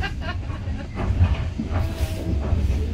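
A miniature railway train at the Bucks Rail Centre runs nearby with a low rumble, soft hissing and faint rail clatter, steady and moderately close, with quiet voices in the background.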